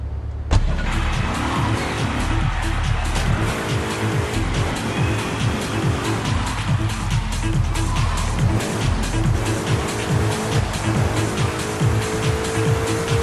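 A stolen taxi driven in GTA III, engine droning steadily for over ten seconds with repeated revving pulses and occasional tire noise, close and loud throughout with no talk.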